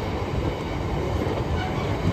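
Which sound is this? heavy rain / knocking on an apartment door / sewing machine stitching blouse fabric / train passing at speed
train passing at speed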